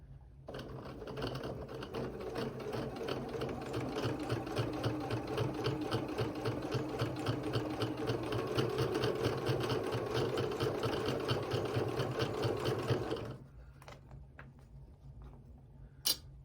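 A sewing machine stitches down a quilt prairie point, running at a steady, fast hum of stitches for about thirteen seconds before stopping abruptly, followed by quiet handling.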